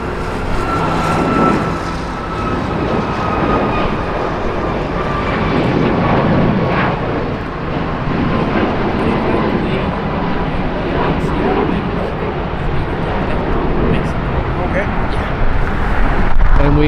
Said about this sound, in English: We have Aero Mexico taking off. Their 737.